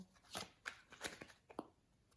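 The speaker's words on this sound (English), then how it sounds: "So I will shuffle them." Tarot cards are shuffled in a handful of brisk, uneven riffles and snaps, quiet and close with short pauses between, with no talking.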